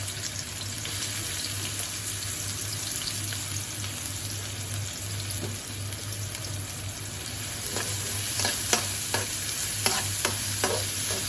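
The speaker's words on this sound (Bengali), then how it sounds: "দিয়ে দিলাম তেল, বেশ খানিকটা পেঁয়াজ দিলাম" Onions fry in oil for mutton rezala with a steady sizzle over a low hum, and a spoon clatters and scrapes against the pan toward the end.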